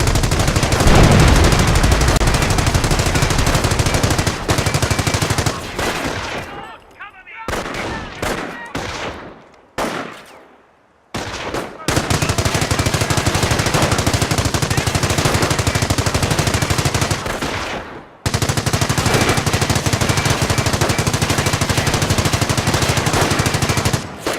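Rapid machine-gun bursts and rifle fire from the Company of Heroes strategy game rattle loudly and almost nonstop, broken by a few short quiet gaps before the barrage resumes.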